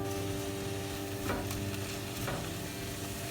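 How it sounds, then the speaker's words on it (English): Baby spinach sautéing in a Martin cast-iron skillet, giving a steady loud sizzle and frying hiss throughout, with a couple of soft stirring scrapes and no speech. "we're going to put the mixture of the baby spinach in and just sauté it"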